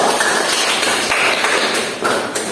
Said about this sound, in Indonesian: kita kasih aplaus untuk Mbak Ayu